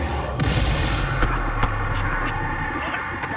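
A Confringo blasting curse bursts in Hogwarts Legacy with a heavy boom and rumbling impacts, followed by sharper thuds amid dense game noise.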